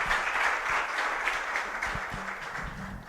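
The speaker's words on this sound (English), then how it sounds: "Let's give them another round of applause, please." Applause from the audience at a training and oath-taking ceremony for field supervisors, steady, dense clapping that holds for the whole stretch at moderate level, with faint low murmurs beneath.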